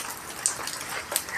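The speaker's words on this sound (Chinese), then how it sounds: "现在下雨喽" Gentle rain falls steadily over a rural front-yard garden, a soft, close hiss with a few brighter drop taps and no voices.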